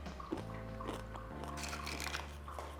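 Crispy, crunchy tortilla chips are bitten and chewed up close, giving several sharp crunches over a steady low background hum.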